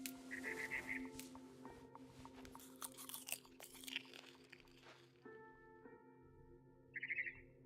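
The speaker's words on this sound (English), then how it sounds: "Then I heard chirping outside my window." A barn swallow chirps in What Remains of Edith Finch: short bright twittering bursts near the start and again at the end, over layered game ambience with crunchy eating sounds in between.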